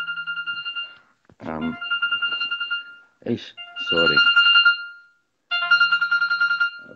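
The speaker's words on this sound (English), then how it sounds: "I got another mobile that's ringing." A mobile phone ringtone rings loudly in bursts of repeating electronic tones at an outdoor political rally in Bulawayo, with someone speaking briefly between the rings.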